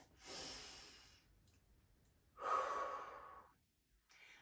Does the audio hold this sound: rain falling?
no